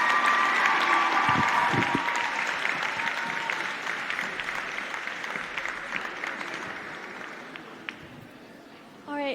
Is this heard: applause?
yes